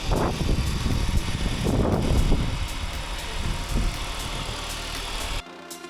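A repaired used supercar's engine idles in a driveway with a steady low rumble and a faint rhythmic ticking, broken by a few louder surges of revving before cutting off near the end; no voices.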